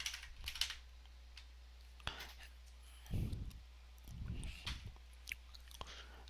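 Keys clatter on a computer keyboard in scattered bursts as commands are typed to eject a tape from a tape drive during an archival session, with a low steady hum underneath.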